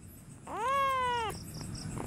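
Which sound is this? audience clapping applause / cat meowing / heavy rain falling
cat meowing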